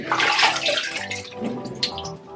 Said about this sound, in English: That's what you want to hear, the bubbles. They're air bubbles because it needs a drink.